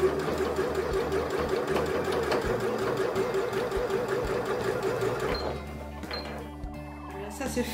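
A sewing machine stitches the corners of a patchwork fabric handbag, running steadily and fairly loudly, then stopping near the end with a few quieter mechanical clicks and handling sounds.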